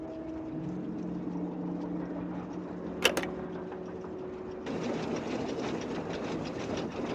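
A moving train in the video game Nancy Drew: The Last Train to Blue Moon Canyon rumbles with a steady tonal hum, a sharp metallic clank midway, then a louder rattling clatter of wheels on track.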